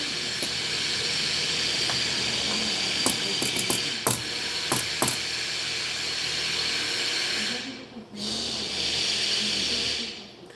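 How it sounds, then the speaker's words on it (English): Pneumatic air hammer running in a small engine workshop, producing a continuous hissing rattle with a burst of sharp clattering strikes midway, a brief gap, then the hiss resumes; faint talk sits underneath. "This air hammering's bothering me, and I'm sure it's bothering you guys."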